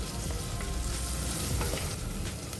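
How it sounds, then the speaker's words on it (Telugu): Green chillies and sliced onions fry steadily in hot oil, a continuous close sizzle with faint stirring scrapes and occasional crackles, with nobody speaking over it. "గోల్డెన్ బ్రౌన్ కలర్ వచ్చేంత వరకు ఉల్లిపాయలను ఫ్రై చేసుకోవాలి"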